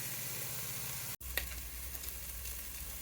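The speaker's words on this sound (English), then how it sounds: "While the green bell pepper and the onion is cooking" Chopped green bell pepper and onion sizzle steadily in a frying pan, a soft continuous crackle broken by a brief cut and a stir.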